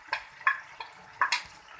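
Liver with yogurt, ground chillies and black pepper is stir-fried on high flame, giving a brief, quiet sizzle punctuated by a few sharp clicks and scrapes of a utensil against the pot.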